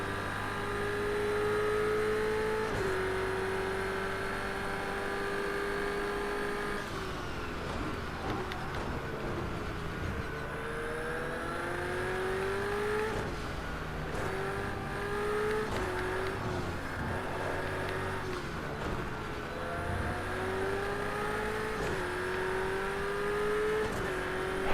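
Race car engines in a racing video game, chasing an Aston Martin race car through a chicane: a loud, continuous engine whine that rises through the revs and drops at gear shifts, lap after lap, with no talk.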